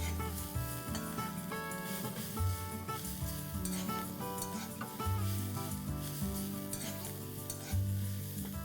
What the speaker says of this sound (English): Now in the same kadai, I'm going to roast 1 cup of dry coconut that's grated